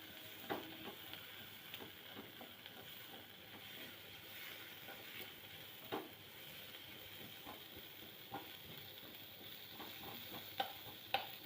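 Two onions frying in a pan for paneer masala, a faint steady sizzle and hiss with occasional soft clicks of stirring, quiet and close with no talking.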